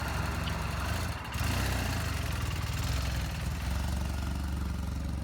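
A 2005 BMW R 1200 GS motorcycle engine idles steadily just after starting, a continuous low throbbing rumble with a brief dip near the beginning and no voices over it.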